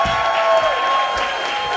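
Applause from the audience at a live comedy show gives steady clapping under piano-like tonal notes from the stage. The clapping is moderately loud and holds the same level throughout.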